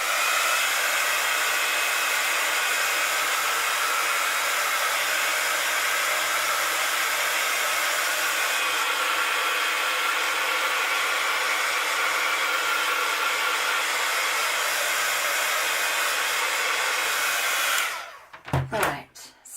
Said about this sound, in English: I'm just going to give this a bit of a blast with the heat gun because there's a bit of paint on there now